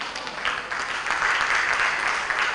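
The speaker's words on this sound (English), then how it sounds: "Okay, clap for Lara." Sustained applause from a crowd at a church training event, even and continuous throughout with a slight swell midway, no voices over it.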